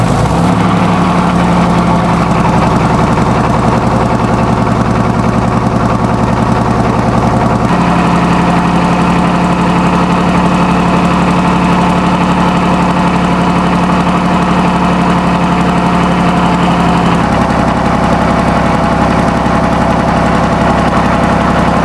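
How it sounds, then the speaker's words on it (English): A 1930s Junkers JUMO 205C opposed-piston diesel aircraft engine of 600 horsepower runs on a stand at an engine meet, a loud, continuous close-up drone with a knocking pulse and small pitch shifts. "Junkers JUMO 205C, a 1930s opposed piston diesel, starting at the 2015 stand motor and Treffen in Hundeluft."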